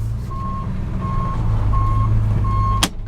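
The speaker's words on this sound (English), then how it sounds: "You got a reverse alarm." A fire department special operations truck's reverse alarm beeps four times in an even rhythm over a low idling engine, followed by a short hiss at the end.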